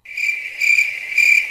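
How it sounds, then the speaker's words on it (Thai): Three loud, bright pulses of cricket chirping, a Roblox game sound effect, ring out evenly in quick succession with nothing else beneath them. "เสียงจิ้งหรีดขึ้นมา"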